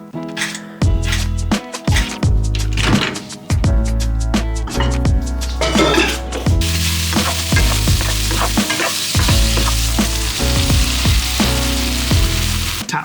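Microwave-precooked potatoes fry in a hot pan, a steady hiss of sizzling fat that swells and stays dense through the second half, with clinks and stirring noises mixed in.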